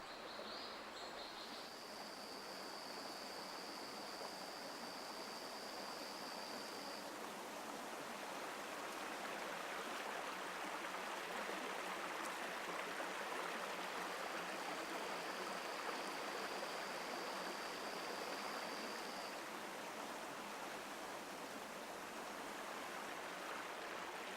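A forest stream flows steadily, a constant broad rushing of water at moderate distance, with faint high bird or insect tones drifting in briefly.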